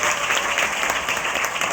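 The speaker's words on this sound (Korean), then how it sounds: "다시 한번 뜨거운 박수 부탁드립니다" A brief, steady burst of close, dense audience clapping at a municipal council ceremony marking local autonomy day, following a saxophone performance.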